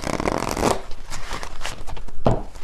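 Tarot message cards being shuffled by hand, a steady run of papery riffling and flicking with a sharper snap partway through, close and fairly loud with no talking.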